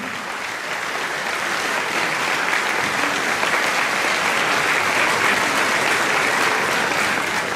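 Warm, sustained applause from a festival audience at a folk song and dance ensemble concert, steady dense clapping that holds at an even loud level throughout.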